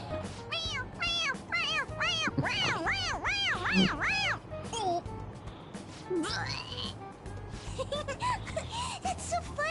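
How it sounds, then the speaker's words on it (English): A stuffed toy cat in the video game Persona 5 Royal gives a run of high, wavering electronic meows, several in quick succession over background noise and chatter. "It meows when you press on its head."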